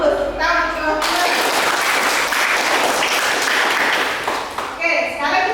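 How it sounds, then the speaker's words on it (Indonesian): Classmates in a school classroom break into applause for a burst of about four seconds, with voices talking just before and after the clapping. "Tepuk tangan untuk teman-teman."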